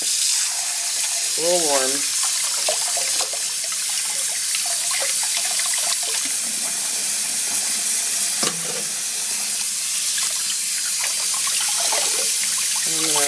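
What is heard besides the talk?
rinsing tea-dyed Aida cloth under running tap water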